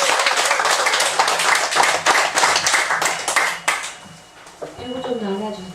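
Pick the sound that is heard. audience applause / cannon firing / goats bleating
audience applause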